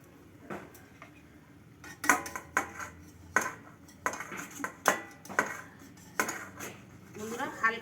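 Metal lid and utensils clank against a pot of mourola fish curry with kankrol, a series of sharp close clinks and scrapes at irregular intervals, with faint background noise and no clear speech.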